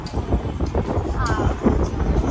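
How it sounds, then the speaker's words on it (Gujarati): Strong gusty wind buffeting the microphone on Atal Bridge, a loud rumbling roar with a faint voice underneath. "પવન કેટલો છે"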